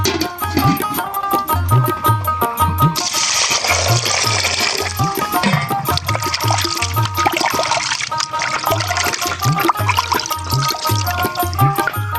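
Cut beef liver pieces are washed under running water, with a continuous close pour and splash and repeated sloshing of the pieces by hand, and no one speaks.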